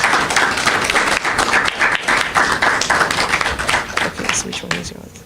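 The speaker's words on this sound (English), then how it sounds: "Let's give a round of applause," An audience claps at a literary arts awards ceremony, a dense sustained round of applause close up that carries on for several seconds, with voices mixed in.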